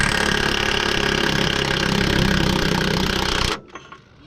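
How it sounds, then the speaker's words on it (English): A pneumatic impact wrench hammers at full blast on a bolt, a loud, continuous rattling drone that cuts off abruptly near the end, leaving quieter knocks and handling sounds. "Put the impact on there and I'm just gonna go full blast forward."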